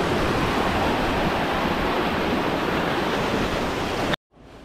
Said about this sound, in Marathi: आणि तो पाणी बघा कसं खाली झाला बघा.